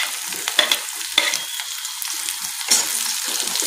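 Finely chopped onion frying with curry leaves, a bright steady sizzle broken by several spatula stirs and scrapes, close up with no talking.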